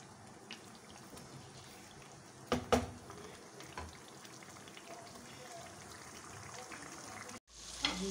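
Mutton karahi with yogurt cooks over a stove turned up higher, a low steady bubbling and sizzle with a few sharp clatters of a spoon in the pan and a clunk near the end, no talking.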